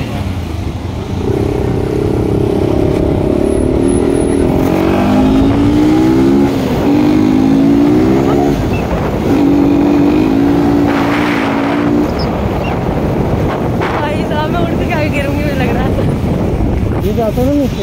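A motorbike ride through Jammu: the engine whines close by and shifts pitch as it speeds up, with gusts of wind buffeting the microphone and brief revving bursts throughout.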